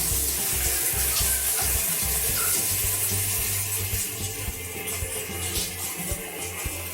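Water runs steadily from a campground sink faucet, a constant close splashing rush that lasts the whole time, with no one talking over it.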